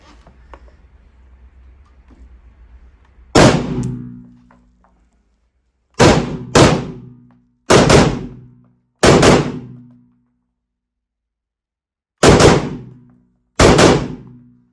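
An SA80 L85 rifle, the Theatre Entry Standard version, fires seven sharp single shots close by. Each crack rings out briefly, and the shots come at irregular intervals after a quiet, faintly humming start.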